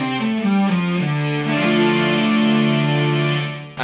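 Electric guitar through an EHX Synth9 synth pedal, a thick distorted, pitch-shifted synth tone with stacked octaves, playing a few stepped chords and then a long sustained chord that cuts off.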